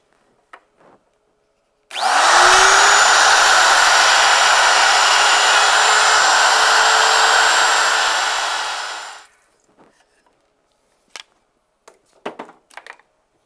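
A router cuts dovetail joints in wood clamped on a Peachtree dovetail jig, one loud, sustained, close whine that spins up, runs for about seven seconds, then winds down, followed by a few faint clicks and knocks.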